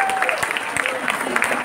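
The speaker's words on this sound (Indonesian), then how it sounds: "Tepuk tangan dong buat Obasan." Audience applause at a product launch event for AFC, brief and moderately loud clapping from a crowd, mixed with some voices and chatter.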